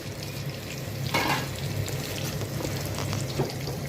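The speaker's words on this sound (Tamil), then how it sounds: "நம்ம வெங்காயம் நல்லா வதங்கட்டும்." Onions with ginger-garlic paste sautéing in a pan for millet tomato rice, a steady close sizzle with occasional stirring scrapes, no voices.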